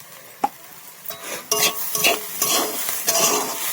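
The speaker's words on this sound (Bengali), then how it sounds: "আর একটু ভেজে নেবো ঢাকা দিয়ে, কারণ এটা একটু বেশি করে ভাজা হলে বাঁধাকপি একটা ভাজা স্পিড হয়।" Mixed vegetables and shredded cabbage fry in a pan with green chilies and chili powder, repeated stirring scrapes in an uneven rhythm over a soft sizzle, close and fairly loud.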